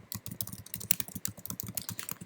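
Fast, close typing on a computer keyboard, a steady run of crisp key clicks with no voice over it.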